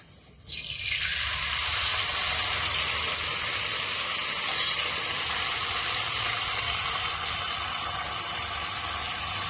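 Oil poured into a hot kadai bursts into a loud, steady sizzle after a brief quiet start, a dense crackling hiss that holds evenly to the end with no talk over it.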